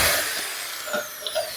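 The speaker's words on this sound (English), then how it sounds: "make sure to drill plenty of holes." A drill bores holes in a plastic hydrogen peroxide bottle, a steady high whine with small bursts as the bit bites through, close and fairly loud throughout.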